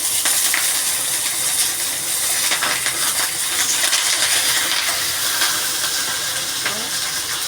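Curry leaves sizzling as they hit hot oil in a pan while making aval upma, a steady loud hissing crackle that carries on evenly throughout, close by.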